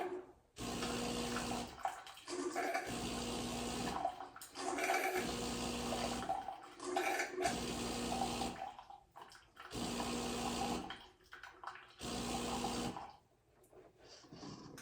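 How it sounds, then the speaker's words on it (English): Delonghi Dinamica coffee machine running its rinse clean cycle, with water spurting in several bursts of a few seconds each, separated by short pauses, steady and fairly close. "you just move the dial to clean, and it cleans it for you, like rinses it out."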